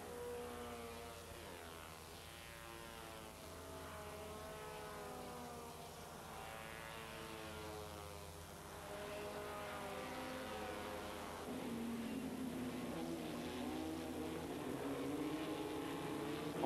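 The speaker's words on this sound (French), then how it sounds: "En tête de la course, on retrouve la voiture numéro 47, celle de Brian Jolife, un Britannique." Engines of vintage race cars passing on the Montlhéry circuit, a rising and falling whine that swells as they approach, fairly distant and steady.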